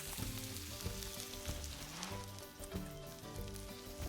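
A shore lunch sizzles in a pan over campfire coals, a steady crackling fry with faint tonal layers underneath, continuous and close throughout.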